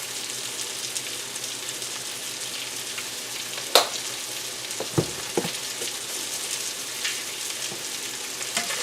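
Seasoned kielbasa with onion powder and garlic powder is stirred in a frying pan, a steady close sizzle broken by a few sharp scrapes and clacks of the utensil against the pan, with no talking.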